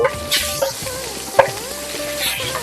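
Cumin, curry leaves and onions fry in a pan for a fish curry, giving a close sizzle with stirring clinks and one sharp metallic knock, and a few faint tonal sounds behind it.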